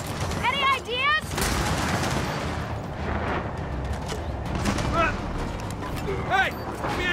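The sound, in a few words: gunfire in video game Gears of War 4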